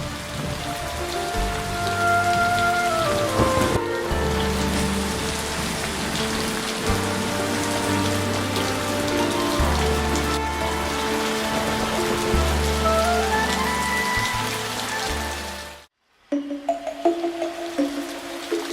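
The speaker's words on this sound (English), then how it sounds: "There's a storm coming." Steady rain and storm effects in an animated film about trains, a loud continuous downpour with low rumbling underneath, cutting briefly to silence near the end before resuming with other sounds.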